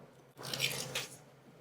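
Close, wet crunching and chewing of breaded fried chicken, a couple of crisp bites followed by squishy mastication, with no talking.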